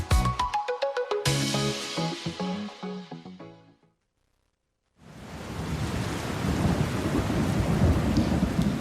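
After a run of bright chiming tones and a short silence, steady heavy rain comes in loud and continuous, hissing over a mosque roof.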